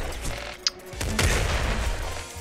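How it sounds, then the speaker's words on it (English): A grenade launcher fires in the Nuclear Throne video game, with a sharp pop followed by a heavier booming blast and rumbling burst of explosions, loud and close. "time to use the grenade launcher ammo"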